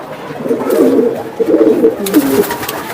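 Racing pigeons cooing close by in soft, throaty, rolling bursts over a steady background hum.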